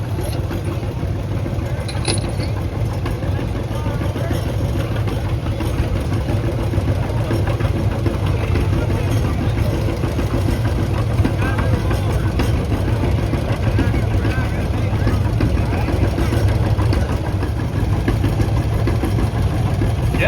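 A John Deere B antique tractor engine running at a tractor pull, a steady low rumbling idle that continues unbroken throughout, close and fairly loud.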